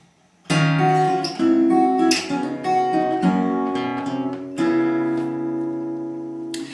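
A guitar plays a short blues turnaround alone, a series of ringing chords and sliding notes stepping along before settling on a sustained final chord.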